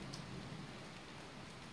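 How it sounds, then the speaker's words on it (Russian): Heavy rain pours steadily during a night thunderstorm, heard through an open window as a faint, even hiss with no distinct thunderclaps and no talking. "Такой дождь льет."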